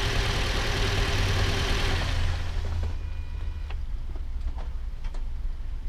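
Toyota RAV4 engine idling with a misfire, a steady low mechanical drone with faint irregular ticking, fairly loud and continuous, easing slightly partway through with no talking.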